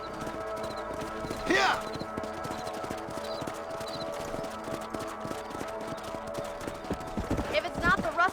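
Horses gallop in Red Dead Redemption, a brisk, steady clip-clop of hooves running throughout, with a whinny near the start and another near the end, while a man lets out a brief shout.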